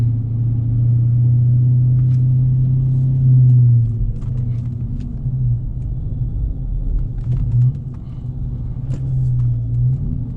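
A Dodge Challenger R/T with a six-speed manual gives a deep steady engine rumble while driving, heard from inside the car, its low drone swelling and easing a few times.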